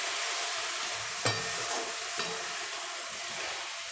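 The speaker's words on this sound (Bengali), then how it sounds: "আবার একটু নেড়ে নিলাম।" Food frying in a pan sizzles steadily at a low level while a spoon stirs it, with two brief scraping clacks against the pan and no talk.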